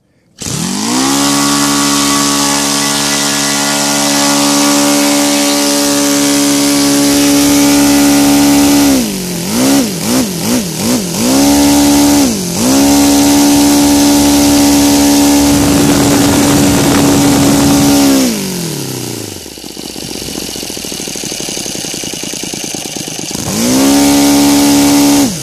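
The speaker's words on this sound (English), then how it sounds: "this is the laser engine made in UK by John" A Laser 160 engine, made in the UK and converted to CH ignition, runs loud and close with a steady buzzing drone, dips into wavering revs, then climbs back to full speed several times, ending with another burst after a brief lull.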